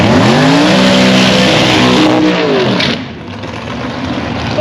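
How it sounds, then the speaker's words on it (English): A 240-inch-wheelbase rear-engine altered dragster with a stock LS 6-litre engine roars very loudly at close range, its pitch sweeping up through gears before the sound drops away into quieter background noise. "240-inch wheelbase rear engine dragster. Has a LS 6-litre in it."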